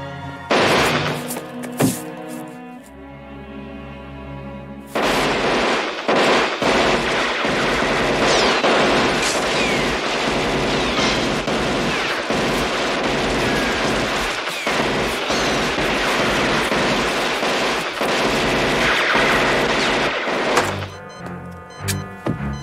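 Bursts of gunfire from the zombie film Dead Heat, with sharp repeated shots and rapid volleys over a dense, loud action soundtrack.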